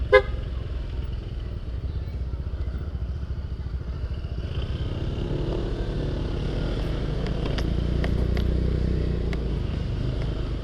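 A motorcycle rides along a town road and takes a turn, its engine droning steadily up close with rising rumble, a brief toot at the start and faint clatter and passing traffic noise later.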